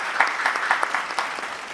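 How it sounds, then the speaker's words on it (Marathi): An audience applauds at a Holi comedy poetry gathering in Akola. The clapping is dense and sustained across the whole stretch, with a few louder bursts standing out. "एकदा जोरदार टाळ्या झाल्या पाहिजे ॲडव्होकेट अनंतजींसाठी"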